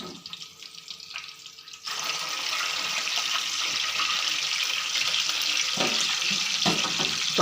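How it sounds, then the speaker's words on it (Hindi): A Peshawari chapli kebab frying in a pan over low heat, browned underneath: after a quieter start, a steady soft hiss of sizzling oil runs close and even with faint clatter, no talking. "हल्की आंच पे तैयार करेंगे तो नीचे से फ्राई हो चुका है"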